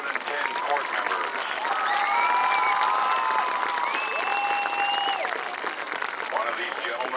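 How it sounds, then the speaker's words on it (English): A crowd applauds at a 2010 high school homecoming ceremony during a football game, a sustained wash of clapping and cheering with faint tonal whistles or tones above it. "let's have a nice round of applause for our 2010 court members"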